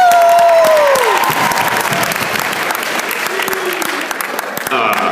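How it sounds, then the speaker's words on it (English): Audience applause at a stand-up comedy show fills the room, loud and continuous from start to finish, with scattered voices and a few whoops mixed into the clapping. "Everybody give Mr. McDonough a round of applause."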